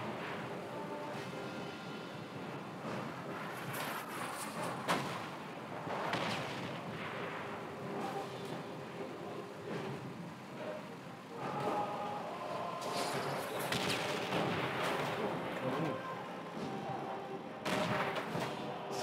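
Gunfire, explosions and artillery-like blasts from the video game Call of Duty: World at War, with flamethrower and tank combat, rumble and crack in dense overlapping bursts at moderate loudness throughout.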